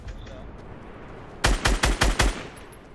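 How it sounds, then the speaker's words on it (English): Rapid burst of Fortnite gunfire, five or six sharp shots in quick succession, loud and close, following a quieter stretch of game ambience. "Someone else trying to shoot me."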